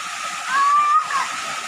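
A waterfall pours inside a cave along a river, a steady, loud broadband rush of falling water with a thin whistling tone rising briefly above it midway.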